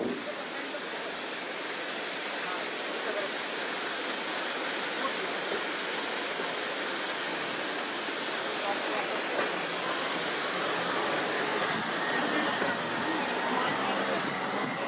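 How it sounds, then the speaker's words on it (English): A waterfall plunges hundreds of feet onto a road, heard as a loud, continuous broadband roar of crashing water that stays steady and close for the whole stretch. "There's a waterfall dropping hundreds of feet onto the road just round the corner."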